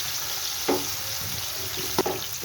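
Rohu fish frying in a pan, a steady sizzle of hot oil with a couple of sharp spits and pops, heard alone without talk.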